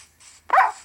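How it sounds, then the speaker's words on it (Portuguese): A wolf in the video game Caverna Online lets out a single sharp bark or yelp, loud and close after a brief stretch of faint background noise, with no talking. "Eita! O lobo subiu!"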